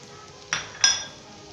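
Two quick metallic scrapes of a utensil against a pan as spices are mixed into light golden-brown fried onions, short and close under a faint background.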